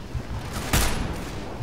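A teammate fires a gun in Left 4 Dead 2, giving a single sharp burst that stands out briefly against the game's rumbling background noise.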